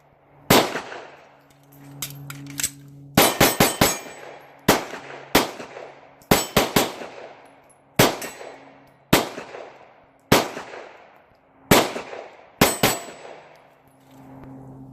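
Live-fire pistol shots from a Hudson H9, roughly a dozen sharp, loud reports spaced irregularly, some in quick pairs, each ringing briefly before the next.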